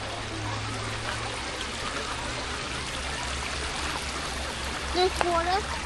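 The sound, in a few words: flowing water of a stream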